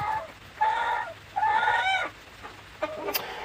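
Chickens cluck and murmur in short bursts with pauses between, close by, over a faint background hum.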